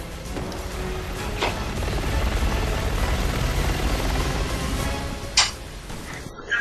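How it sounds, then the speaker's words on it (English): An armored military helicopter in the video game Resident Evil 6 produces a steady, loud rotor drone throughout, with a few sharp impacts and clicks scattered over it and no speech. "That's an armored chopper they brought in!"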